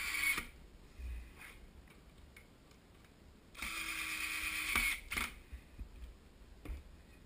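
A screwdriver drives screws into a wooden wood duck nest box, heard as soft ticking and clicking with several brief bursts of sound. Quiet gaps fall between them and a few sharper knocks stand out.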